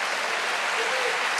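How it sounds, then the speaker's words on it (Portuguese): A church congregation applauding during a worship service, a steady dense wash of clapping at even loudness with no voices standing out. "Você pode aplaudir ao Senhor aí?"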